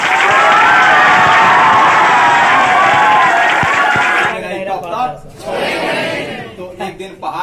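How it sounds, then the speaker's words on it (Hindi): Loud applause and cheering from an audience at a quiz show, a dense roar of clapping and shouts that breaks up into scattered voices near the end. "इनके लिए जोरदार ताली होनी चाहिए"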